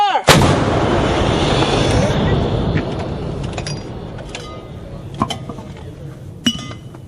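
A single loud artillery gun blast opens, booming and rolling off into a long echoing tail, with a few fainter sharp reports and metallic clinks later during Army National Guard infantry brigade annual training.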